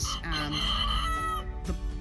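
Cuckoo roosters crow on a farm, one drawn-out call ringing fairly close, then a short cluck after a brief pause, over faint background noise.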